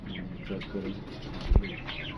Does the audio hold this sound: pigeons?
yes